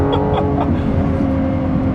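Lamborghini Revuelto naturally aspirated V12 revving hard at full throttle, a loud continuous high-rpm engine roar with brief shift blips, close and unbroken with no talking.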